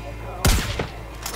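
A single loud, close gunshot from a firearm in the Far Cry 5 video game, a sharp blast with a booming low tail that dies away within about a second, set against a quiet, steady background.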